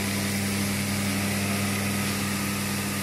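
A screw sorting and screw driving machine runs with a loud, steady mechanical hum and buzz, unbroken and close, with no speech.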